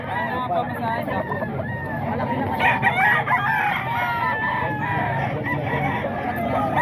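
Roosters and hens at a poultry market sale crow and cluck in overlapping calls, several birds at middle distance amid steady crowd babble and nearby talking voices.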